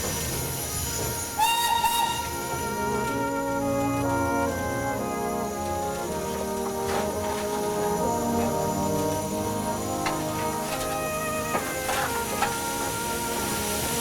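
A steam train rumbles steadily along, loud and continuous, with a brief locomotive whistle near the start before a tunnel and clanking, tonal mechanical sounds throughout.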